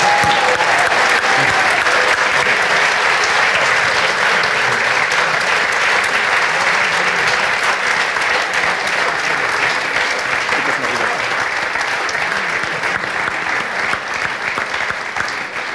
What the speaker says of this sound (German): den Applaus hat sich der Thiele redlich verdient